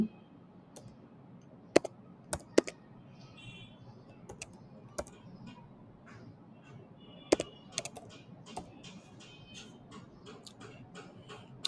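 A number being typed on a computer keyboard, scattered sharp key clicks at an uneven pace with short pauses between taps, close and clear in a quiet room.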